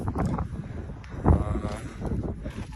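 Strong wind on a mountain road, a steady rough buffeting rush with a louder gust partway through.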